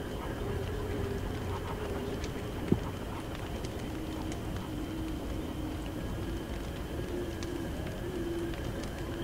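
Birds coo and call through steady ambient game audio in Don't Starve Together, a continuous wash of sound with a single sharp click partway through.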